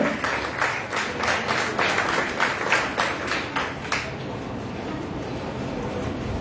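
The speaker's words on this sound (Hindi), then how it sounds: "तालियां।" Applause from a gathered audience as names and exam percentages are announced: steady, fairly dense clapping close by for about four seconds, then tapering into a low background murmur of the room.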